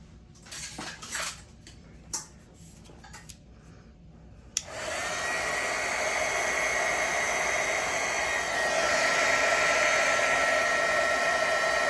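A heat gun shrinks heat shrink tubing over a soldered wire. After a few light clicks and handling noises, it switches on with a sharp click and then blows a steady, loud hiss for the rest of the clip.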